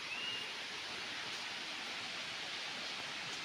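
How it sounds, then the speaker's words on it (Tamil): A waterfall in the Javadhu hills gives a steady, broad rushing roar of falling water, constant and fairly close, with no voices over it. "அருவி வந்து நம்ம ஜவ்வாது மலையில் பார்த்திங்கன்னா எப்படி தண்ணி வந்து ஊற்றுது பாருங்கள்"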